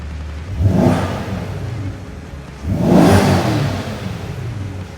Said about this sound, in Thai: มาฟังเสียง NA ของรถดีกว่านะครับ